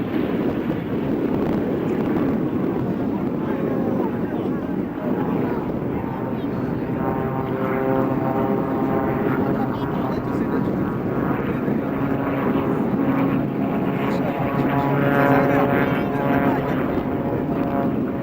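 Aerobatic team jets pass overhead at an Andrews Air Force Base air show, a sustained loud roar with engine tones that slowly shift in pitch as they cross, while a voice talks on and off throughout.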